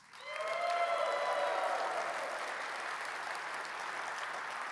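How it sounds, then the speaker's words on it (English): A large keynote audience at a SOLIDWORKS conference claps for certified users, a dense sustained roar of applause that swells quickly and holds steady, with faint tonal music underneath at the start. "Let's give all our certified users across the globe a big round of applause."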